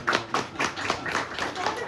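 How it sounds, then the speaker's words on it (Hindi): Audience applause at a 20th wedding anniversary celebration, a short burst of close, loud clapping with uneven rhythm and a few people joining in. "एक बार तालियां हो जाए यार"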